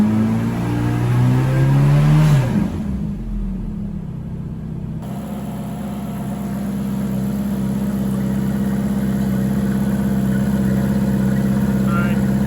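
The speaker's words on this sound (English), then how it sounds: "It also gets your oil pressure up there when you rev it." Ferrari F430 engine revved in a garage during an oil change, a rising rev peaking early then dropping back to a steady, rumbling idle that continues close and loud to the end.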